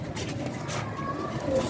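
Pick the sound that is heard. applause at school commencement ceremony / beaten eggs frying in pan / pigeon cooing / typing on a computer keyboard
pigeon cooing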